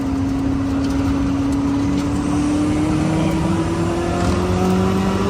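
Koenigsegg Jesko hypercar, non-downforce version, accelerating hard with a loud close engine drone whose pitch climbs steadily over a dense road roar, with no voices.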